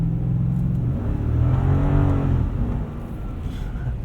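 A Lexus GX 460 on Cooper Discoverer AT3 4S all-terrain tires brakes on winter slush, its engine and road rumble loud and close, easing off steadily as the SUV slows, with no talking.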